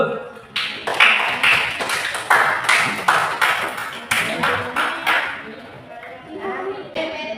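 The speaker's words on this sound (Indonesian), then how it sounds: "Tepuk tangan dulu." Students in a classroom clap their hands together in a quick, crowded patter of many claps that lasts several seconds, fading toward the end, with voices mixed in.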